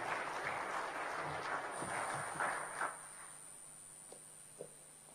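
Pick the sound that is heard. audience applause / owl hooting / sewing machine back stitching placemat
audience applause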